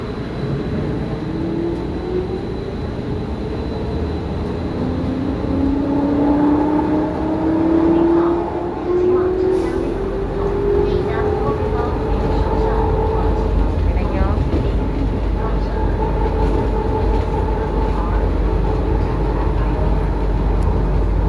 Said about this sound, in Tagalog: Mag-MRT kami.